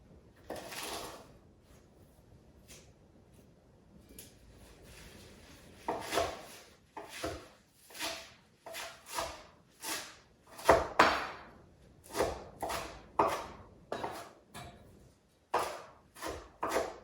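A knife chops kale on a cutting board in a series of sharp, dry knocks, sparse at first and then coming in a steadier rhythm, close and fairly loud with no talking.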